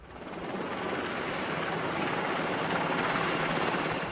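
A Lynx military helicopter in flight gives a loud, continuous rotor and engine roar that swells slightly and holds steady throughout, with no voices.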